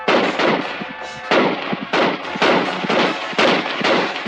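A cartoon gun fires a rapid series of loud, bursting blasts, roughly eight in about four seconds, each with a crackling tail, heard alone without talk.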